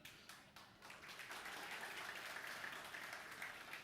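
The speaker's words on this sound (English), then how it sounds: "I have no idea why you're clapping." Audience clapping during a live talk event, a steady wash of many hands that swells after a sparse start and holds for several seconds, moderately distant and without voices over it.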